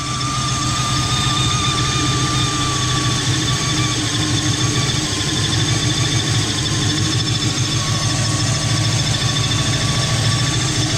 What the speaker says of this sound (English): It just sounds like crazy exhaust. That sounds like a vacuum leak though.